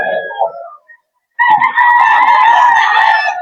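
Young roosters at a farm breeder's sale crow loudly and close by, one short call, a brief gap, then a long sustained crow, with other fowl noise at the start.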